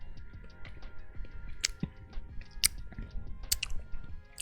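Children chewing canned cheese spread (Cheez Whiz), with soft, wet mouth sounds and small smacks scattered irregularly over a quiet background, close and faint.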